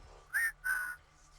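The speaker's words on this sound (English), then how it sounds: "Whistle softly at a hologram several feet away." Soft whistling in the video game Wasteland 3: two short, clear whistled notes, close and gentle, over a quiet low game hum.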